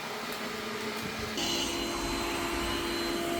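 Yeedi VAC 2 Pro robot vacuum running in turbo mode, a steady whirring hum that steps up noticeably louder partway through and then holds constant, close by with no voices.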